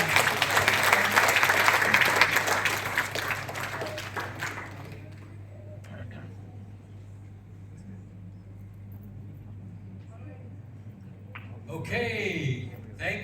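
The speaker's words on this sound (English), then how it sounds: "Let's give them a big round of applause for wonderful sharing" A hotel function audience in Putatan, Sabah, applauds two speakers after their talk. Clapping is strong for the first few seconds, then fades into room murmur and scattered voices, with a brief swell of noise near the end.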